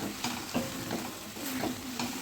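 Jaggery stirred into a pan of cooking oil brings a soft continuous sizzle with regular scraping strokes of a spoon, about four or five in quick succession.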